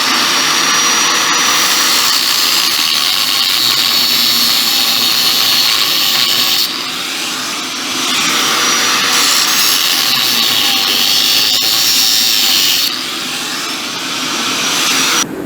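A steady, loud high-pitched whine of drilling a metal bracket on a 1940 Chevy Coupe runs throughout, briefly dipping in intensity a couple of times before resuming.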